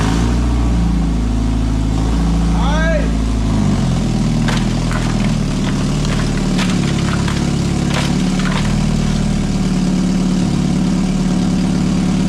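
A Mazda Miata with an automatic transmission runs steadily with a low, loud engine drone throughout, a brief rising whine near the start and scattered clicks and knocks over the continuous rumble.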